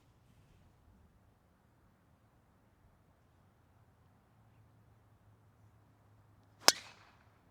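One sharp, crisp crack of a golf driver striking a ball off the tee, loud and sudden against a near-silent outdoor background, with a brief trailing whoosh after impact.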